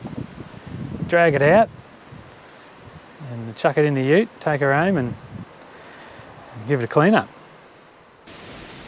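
Steady wind buffets an outdoor microphone on a blustery hilltop while an old vehicle is pulled from a back shed, a constant rushing hiss running beneath a man's close, intermittent speech.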